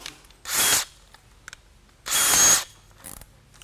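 A power drill fitted with a spade bit bores a countersunk pilot hole in wood, heard as two loud, close whirring bursts separated by quiet, with faint handling clicks between.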